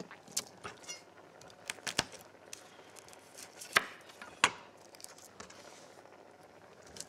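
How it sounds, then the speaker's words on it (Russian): A small garlic clove is crushed and then chopped with a knife, making irregular sharp taps and thuds of varying loudness against a quiet background. "Так, раздавим его, немножечко порубим небольшое количество чеснока"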